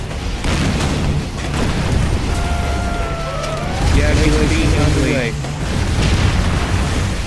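Laser beam strikes detonate in C&C Generals Zero Hour, loud rumbling booms and blasts layered over battle noise, with gliding electronic tones and game unit voices speaking throughout.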